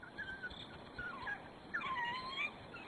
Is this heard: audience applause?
no